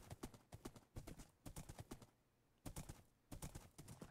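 Horse hooves in the Minecraft Warlords mini-game clatter in quick, uneven bursts of sharp clip-clops, pausing briefly midway before resuming, faint and close with no talking.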